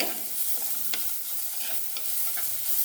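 Fish curry masala sizzling in a pan while a spoon stirs it, for a mango fish curry; a steady close frying hiss runs throughout with a few faint scraping taps, and no one speaks.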